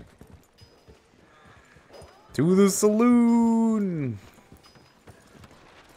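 Horse hooves clip-clopping through a town in the video game Red Dead Redemption 2, a steady rhythmic patter at moderate distance, partly under a loud shouted voice in the middle of the clip.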